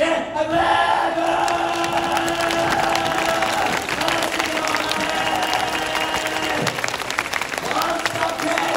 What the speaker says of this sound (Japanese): 前から後ろに向かって拍手ウェーブ開始